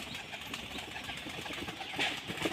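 Domestic pigeons released from their strings during a pigeon-flying contest, faint wing flaps and soft movement continuing steadily, with a brief louder flutter near the end.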